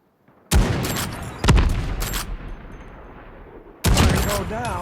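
Gunfire in the mobile shooter COD Mobile, three loud sharp shots spaced apart, each followed by a lingering rumbling echo, close and prominent.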